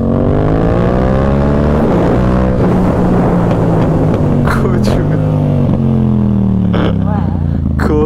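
A Yamaha MT-07 motorcycle engine revs loud and close while riding at speed, its pitch rising and falling, with crackling exhaust pops near the end and someone talking over it.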